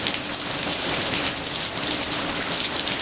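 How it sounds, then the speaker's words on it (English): Rain falls steadily on a bird house sheltering a squirrel on a rainy Christmas morning: a dense, even patter that stays loud and close without a break, and no voices. "Nibbler's staying inside on a rainy Christmas morning."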